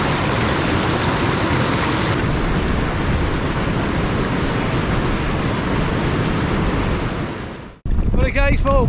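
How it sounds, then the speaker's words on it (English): Strong gusty wind of nearly 30 mph sweeps across a hillside during wild camping in heavy rain, a loud, steady roar buffeting the microphone for most of the clip before cutting off abruptly, then a brief voice is heard. "I've just measured the wind already and it's hitting nearly 30 miles per hour"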